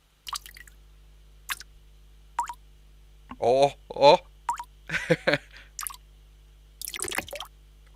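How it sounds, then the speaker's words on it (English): Recorded samples of dripping water play as short separate drips and plops at uneven intervals, close and clear against silence, with a person briefly reacting aloud among them. "so here are some water samples"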